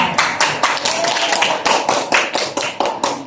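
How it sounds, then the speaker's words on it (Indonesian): Classroom applause for a student during an Indonesian civics lesson, a dense run of many hands clapping at close range, steady and loud for a few seconds with no talking over it. "terima kasih Ali, tepuk tangan ya"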